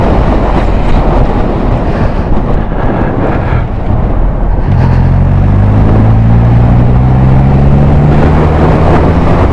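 Triumph Rocket 3 GT motorcycle engine pulling hard and loud under heavy wind rush, its pitch dropping and climbing again as the gears shift up.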